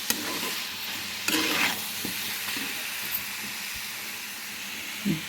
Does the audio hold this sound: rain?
no